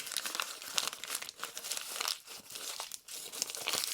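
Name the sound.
paper being crumpled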